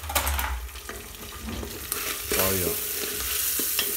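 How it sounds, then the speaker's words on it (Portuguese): Onion sizzles loudly in a hot pan as a utensil stirs and scrapes through it, a steady close frying hiss with a few brief spoken words. "E aí vou estar adicionando a cebola."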